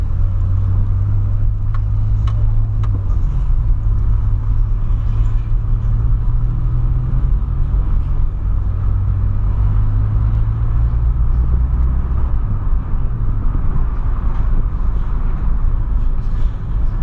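Volkswagen Polo engine droning steadily while driving, a low loud rumble with slight pitch shifts as the revs change, continuous road noise and no talking.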